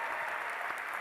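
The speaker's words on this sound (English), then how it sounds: "Give him a round of applause for that." Audience at a college event applauding steadily, a dense wash of clapping hands that holds evenly for the full second with no voices breaking through.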